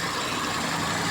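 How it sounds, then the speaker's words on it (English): Steady low rumble of a 2007 Proton Savvy car engine idling, heard close and continuous with no talk over it. "Look how it sounds. It sounds so fresh. It sounds so. There's still life to this engine."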